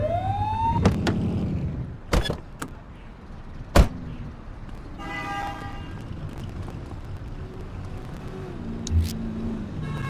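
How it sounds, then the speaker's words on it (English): Police car siren in The Precinct game, a rising wail and a short warbling whoop over steady engine and street noise, with sharp clicks and a brief horn-like toot. "Remember to turn your siren on"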